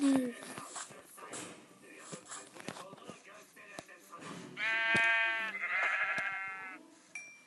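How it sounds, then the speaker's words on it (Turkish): Sheep in the Minecraft video game bleat twice in a row, each a loud wavering electronic baa, over scattered clicks and footsteps of gameplay. "Ha, koyun da varmış."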